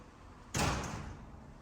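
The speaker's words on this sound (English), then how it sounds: "Counterweight tilt door, fully converted into a more modern, smoother and quieter system with these spring-loaded scissor type arms." A motorised counterweight tilt garage door converted to spring-loaded scissor arms, giving a single sudden broad thump as it closes, followed by a short fading rumble with no voices.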